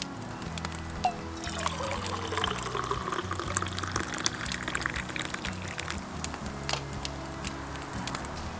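Cowboy coffee pours from a pot into a cup in a soft, continuous trickle that runs steadily for several seconds at a modest level.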